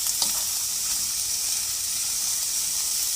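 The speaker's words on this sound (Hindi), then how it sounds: "इनको हम साटे करेंगे। ये तेज़ आंच पे आपने करनी है" Vegetables for spring rolls sauté over high heat in a pan, giving a loud, steady, close sizzle with a bright hiss that holds unbroken throughout, with no talking.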